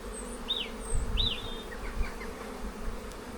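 Honeybees buzzing around an open hive during an inspection of a strong colony, a steady close drone with a few louder passes of single bees flying by.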